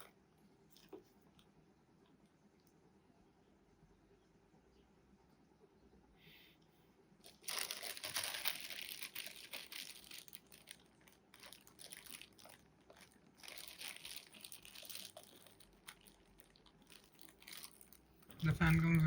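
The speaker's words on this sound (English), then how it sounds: "Corsair used to have cardboard packaging, now it is using paper packs." Paper packaging of a Corsair Nautilus RS LCD cooler crinkles and rustles close by. The handling comes in bursts after a quiet stretch, with a loud thump at the end.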